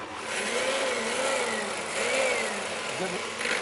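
A blender whizzes herb butter for grilled plaice in a kitchen, a sustained, fairly loud motor whine with a wavering pitch that runs the whole time.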